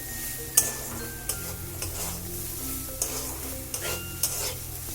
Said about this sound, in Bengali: চিনিটা দিয়ে আমি একটু ভালো করে 2 মিনিট ভেজে নিয়েছি